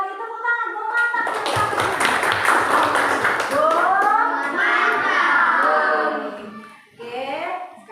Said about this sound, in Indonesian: Tepuk tangan, Bu mantap.